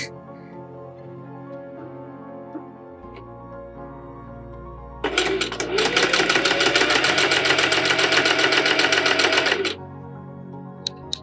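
A sewing machine stitches a dress for a robe à l'anglaise, running in one steady, loud, rapid burst of about four seconds in the middle after a quieter stretch of room hum and small handling sounds.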